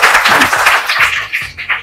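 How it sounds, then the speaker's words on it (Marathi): A gathered crowd claps to welcome a family at a child's first birthday celebration: a loud, dense wash of applause that thins toward the end. "त्यासाठी आपल्या सर्वांतर्फे त्यांना आपण टाळ्या वाजवून त्यांचं स्वागत करू"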